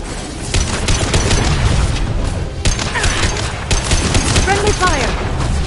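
Rapid bursts of sci-fi gunfire and booming impacts from a firefight in Mass Effect 2, dense and continuous, with voices shouting over the combat and a few whooshing effects.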